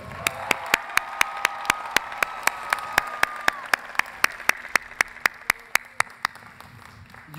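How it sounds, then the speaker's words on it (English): Rhythmic clapping at a college commencement ceremony, evenly spaced sharp claps, fairly close, with a faint hum and brief voices underneath. "Another round of applause for the class of 2022."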